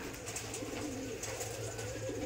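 Domestic pigeons on a pigeon farm coo softly in low, rolling, overlapping calls, faint and continuous, with no talking.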